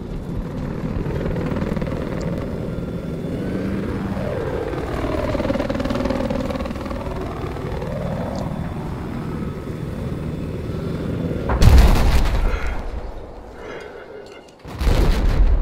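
A helicopter in the video game Battlefield 4 drones steadily with a rotor hum and a sweeping pitch shift, then sharp blasts and gunfire break in near the end.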